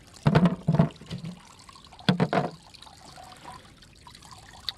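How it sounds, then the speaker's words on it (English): Water from a small steel pipe trickles and splashes intermittently into a cistern, with a couple of louder gushing bursts followed by a softer, steady dribble. "The water comes in"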